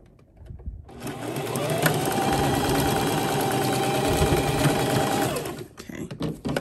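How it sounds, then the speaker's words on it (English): A sewing machine stitches fabric for a reversible dog bandana with elastic, running as one steady, close mechanical whir for about five seconds before stopping. "And I'm gonna sew right about right there."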